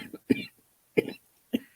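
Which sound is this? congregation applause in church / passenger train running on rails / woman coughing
woman coughing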